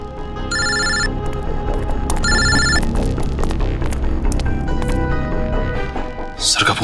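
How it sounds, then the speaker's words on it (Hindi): A telephone rings in two clear bursts over a noisy indoor scene, with people talking throughout and a brief hiss near the end. "सर फोन उठाइए।"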